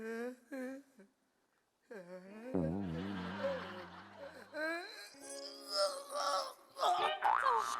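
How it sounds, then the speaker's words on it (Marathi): A big, drawn-out yawn during a Marathi comedy show, a long moaning, wavering vocal sound at close range, followed by laughter and talk. "अरे ट्रेलर पेक्षा मोठी जांभई दिली यांनी"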